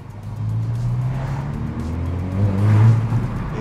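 Hyundai i20 N in sport mode with the exhaust opening, a low, resonant engine drone heard from inside the cabin that swells louder near the end.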